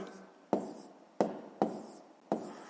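A pen writes numbers by hand on paper while working out a column multiplication, giving four sharp, evenly spaced taps and strokes close up, each quickly fading.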